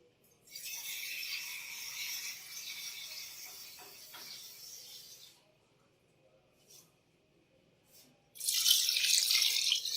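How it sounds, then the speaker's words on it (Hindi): Water pours from a tap or jug into a cooking pot of beef and rice for yakhni pulao, a steady splashing stream for several seconds that stops, then a louder renewed pour near the end. "इसमें अब मैं ये 3 बाउल पानी के शामिल कर दूंगी"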